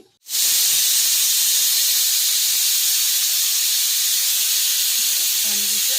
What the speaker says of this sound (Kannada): ಈಗ 1 ವಿಷಲ್ ಬರಲಿ.